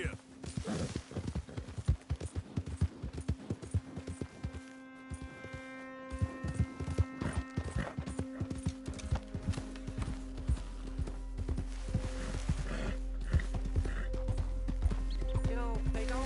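Horse hooves clip-clop steadily through a Red Dead Redemption 2 video game ride, a continuous rhythmic trot under music and ambient hum, growing louder toward the end, with voices speaking over it.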